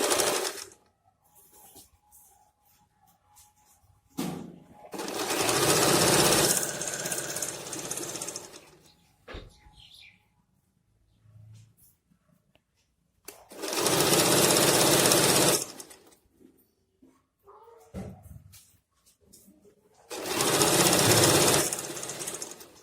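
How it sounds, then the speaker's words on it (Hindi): An electric sewing machine stitches a half-inch seam on a pair of pants from the bottom hem to the crotch. It runs in three loud, steady buzzing bursts of a few seconds each, with quiet handling noises in between. "सेम वही 1/2 इंच की सिलाई हमें लगानी है बॉटम से लेके क्रॉच एरिया की कटिंग तक"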